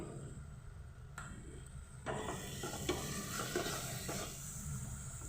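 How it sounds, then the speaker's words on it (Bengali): Katla fish kalia masala sizzles steadily in a pan while a spoon stirs and scrapes through it, producing soft clinks and clatters, close and moderately quiet, with no talk. "ভালোভাবে একটু কষে যাক"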